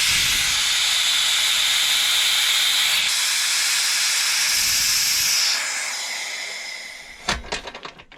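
Air hisses steadily out of a Harbor Freight pressure pot as it is vented, a loud broadband rush that fades toward the end, followed by a few sharp metallic clanks.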